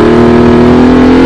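Sports car engine, one of a Chevrolet Camaro ZL1 or Ford Mustang Boss 302, drones loud and close in a steady held tone while accelerating out of a corner, alone for just over a second.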